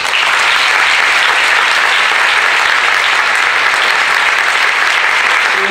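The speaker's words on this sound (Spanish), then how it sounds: "Y sin más, un aplauso para Rosa María Calaf." An audience at a talk bursts into steady, loud applause to welcome a speaker, a continuous wash of many clapping hands with no speech over it.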